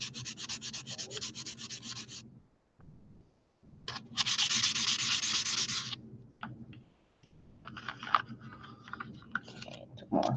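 Clay faux gemstones of Pardo jewelry clay being hand sanded with wet sandpaper: close, steady rasping strokes in bursts separated by brief pauses, with lighter scrubbing and small clicks toward the end.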